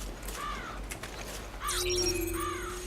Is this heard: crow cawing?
yes